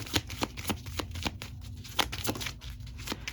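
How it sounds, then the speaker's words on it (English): Tarot cards shuffled and drawn by hand, a quick run of crisp riffling snaps and slaps repeating about every third of a second, close and fairly quiet with no talking over it. "Let me get 3 cards."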